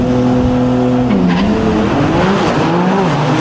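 Drag-racing Porsches, a yellow one and a silver one, launching hard off the starting line at a racing event; loud roaring engines rise in pitch with tire squeal, steady and close throughout with no talking.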